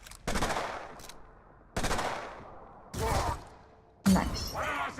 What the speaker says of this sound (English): So first we're gonna use the Selma for the twitch shot.